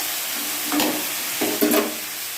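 Carrots and potatoes fry in a pan with salt, turmeric and cumin, giving a steady close sizzle broken by two or three louder scraping stirs.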